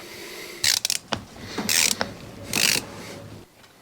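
A rebuilt Cat D4 hydraulic pump is spun by hand on the bench, giving a few close, dry mechanical ratcheting bursts with short pauses between them and no voices.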